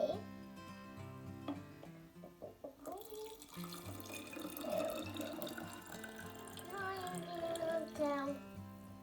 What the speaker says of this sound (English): first we're going to put the food coloring and water in